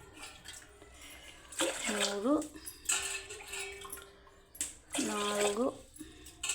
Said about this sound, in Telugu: ఇప్పుడు ఇందులో 6 గ్లాసుల నీళ్ళు తీసుకోవాలి